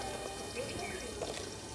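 A little water is poured onto green peas for an omelette, a brief, soft trickle and splash up close.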